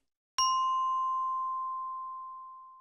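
A single clear electronic tone from an answering machine sounds abruptly before a message and holds steady, slowly fading over about two and a half seconds in silence.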